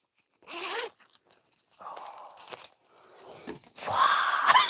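A few short zipping sounds close by, separated by pauses, the last one longer and louder.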